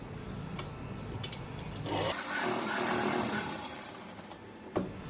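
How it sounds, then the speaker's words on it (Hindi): Close, continuous whirring of a sewing machine stitching a fabric neck design, running steadily and then easing off near the end, with a brief clack. "इसके ऊपर पहले इस तरह से एक सिलाई लगा लेंगे"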